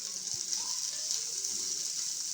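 Carrots and capsicum frying for vegetable noodles give a steady, close hiss of sizzling oil throughout, with faint scraping of stirring underneath and no talking.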